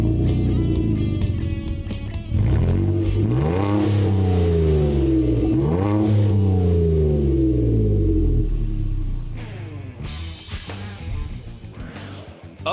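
A Nissan Frontier pickup with an aftermarket exhaust revs hard twice, deep rising-and-falling engine notes close and loud, then settles into a lower rumbling idle with a brief final blip.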